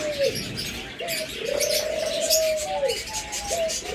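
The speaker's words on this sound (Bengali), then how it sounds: "ঘুঘু পাখি ডাকের জন্যই বিখ্যাত" Doves kept for sale coo close and loud in drawn-out rising and falling calls, several overlapping over a few seconds, with light chirping behind.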